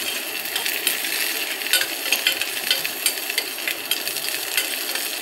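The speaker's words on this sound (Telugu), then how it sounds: "ఉల్లిగడ్డలు అయితే కొద్దిగా వేగనివ్వాలి" Onions frying in a pan, a steady bright sizzle with light stirring scrapes throughout, close and continuous with no talking.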